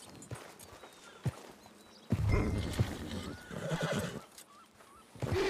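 A carriage horse neighs and whinnies loudly and close by, with hoof clip-clops and footsteps sounding around it.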